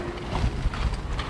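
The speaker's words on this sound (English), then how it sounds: "there are 4 horses in front of us here" Four horses pulling a Kohler Four-In-Hand carriage clop along in a quick, uneven rhythm of hoofbeats, moderately close, under a low rolling background.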